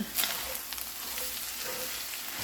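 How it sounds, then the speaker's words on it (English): Cumin and garlic powder sizzling in a frying pan of Southwestern egg-roll filling as it is stirred, a steady close crackle and hiss with faint scraping, no talk. "And I'm gonna stir that."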